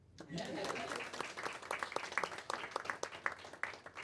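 A youth-organizing event audience claps for a speaker named Kelly, a moderate round of applause with individual sharp claps standing out as it thins near the end.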